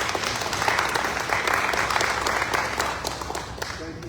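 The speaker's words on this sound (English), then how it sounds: "Please stand up and take a round of applause." A crowd at a 100th birthday celebration keeps up a continuous round of applause, full and even, holding steady for about four seconds before easing off slightly.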